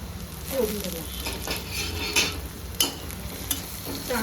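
Spices and coriander sizzle in hot oil for a Marathi tempering (phodni) while a spoon stirs and taps the pan, a dense close frying hiss with a few sharp clinks.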